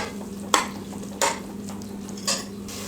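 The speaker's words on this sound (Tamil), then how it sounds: "பாருங்கள், நல்லா 2 நிமிஷம் நான் நல்லா வதக்கிட்டேன்" A ground masala paste with tomatoes is sautéed for kuska, a plain Tamil biryani, with soft background sizzle under three sharp scrapes of a spoon against the pan, spaced roughly a second apart.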